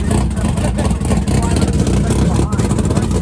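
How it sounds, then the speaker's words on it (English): A cheap race car with open headers and a Powerglide transmission revs hard at high RPM, a loud, raw, continuous engine roar with a throbbing low rumble and no breaks. "He's going to be enjoying open headers and high RPM because he's got a power glide."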